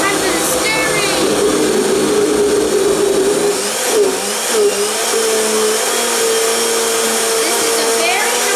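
A blender whirs loudly and steadily, blending green juice made with lemon and jalapeno, its motor pitch dipping briefly midway as the load shifts before settling back into a constant high drone.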